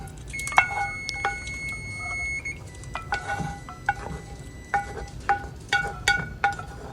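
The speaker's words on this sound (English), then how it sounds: "It's just my timer on my stove." A stove timer in a home kitchen beeps in a series of short, sharp electronic tones, irregular at first and then repeating steadily, heard nearby over low background noise with some light clinking.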